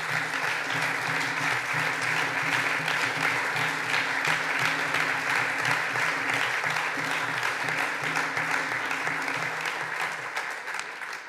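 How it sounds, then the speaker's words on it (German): Sustained audience applause at a Green party state conference after a Berlin daycare director's speech, a thick continuous patter of many hands that carries steadily for about eleven seconds and eases slightly at the end, with a low hum beneath. "Applaus"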